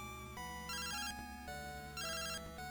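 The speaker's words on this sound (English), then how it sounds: "we're still getting phone calls out here" A Pokemon Silver phone rings in chiptune beeps: two bursts of warbling high tones over a simple stepping bass line, clean and electronic.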